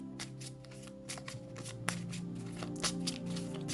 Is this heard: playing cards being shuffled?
yes